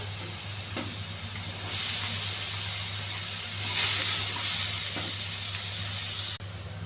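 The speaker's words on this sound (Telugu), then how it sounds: "ఆవాలు ఇవన్నీ దోరగా ఎగర్చాలండి. పచ్చిమిర్చి, కొన్ని ఉల్లిపాయలు, కోసి పెట్టుకుని అరటికాయ ముక్కలు" Spices, green chilies, onion and raw plantain pieces frying in oil, giving a steady close hiss and sizzle with a low constant hum beneath and a few faint clinks, no talking.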